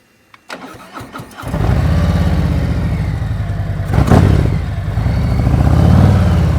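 A motorcycle engine fires up after a few starter clicks and settles into a loud, close, steady idle with a brief throttle blip, during a slow-speed riding skills practice session.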